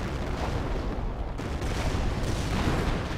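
Rocket barrage from a Wurfrahmen half-track in the World War II strategy game Company of Heroes: a dense, continuous roar of explosions and booming impacts, loud and sustained throughout with no voices.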